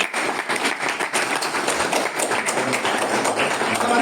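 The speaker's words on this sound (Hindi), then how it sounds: "आप सभी से निवेदन है, जोरदार तालियों से उनका स्वागत करें।" An audience at a school science exhibition claps to welcome the judges, with steady, crowded applause of many hands continuing for the whole few seconds at moderate loudness.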